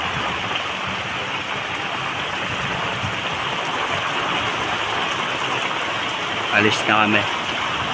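Heavy typhoon rain in Olongapo, Zambales, pouring as a dense, continuous hiss, with a person speaking briefly near the end.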